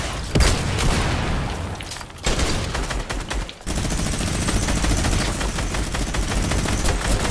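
Minigun fire in Fortnite: loud, sustained rapid automatic bursts with brief pauses, dense and close, pressing on for several seconds with no voices over it.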